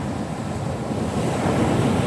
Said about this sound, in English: we got some pretty loud waves going on